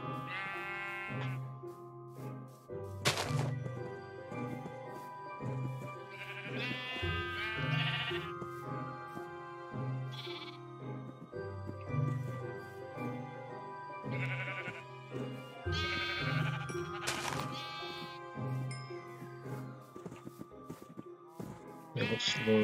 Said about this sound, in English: Oh, there's a brown sheep.